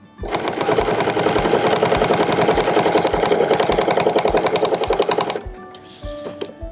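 A quilting sewing machine stitches a row of six 1-inch clamshells from a template, a fast, even mechanical chatter running for about five seconds before stopping, with a few faint clicks after.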